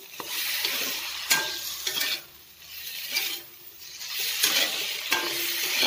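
Fried potatoes go into a curry in a pan and are stirred through it, giving close scraping strokes over a constant sizzle with no voices.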